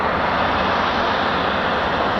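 A Eurofighter Typhoon FGR4 jet at RAF Coningsby starts up, giving a loud, steady, broadband roar that fills the whole short stretch without a break.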